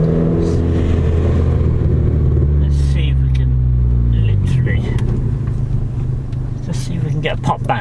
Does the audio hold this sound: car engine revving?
yes